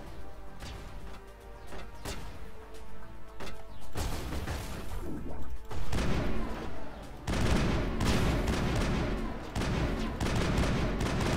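Rapid bursts of gunfire in the video game Mass Effect crackle and boom continuously, dense and loud, with heavy impacts layered over the shooting.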